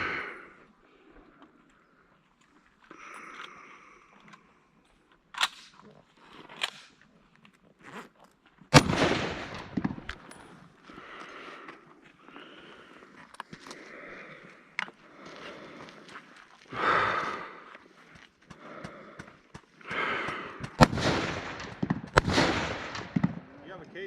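M-1 Garand rifle shots crack out outdoors as a few sharp, widely spaced reports among quieter rustling and shuffling, with people talking in between.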